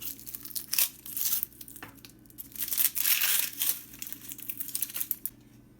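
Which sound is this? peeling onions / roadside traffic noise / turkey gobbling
peeling onions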